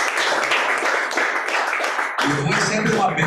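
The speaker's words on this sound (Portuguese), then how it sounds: "Um aplauso ao Senhor, né?" Church congregation clapping at a celebration service, a dense patter of hands that carries on throughout, mixed with voices.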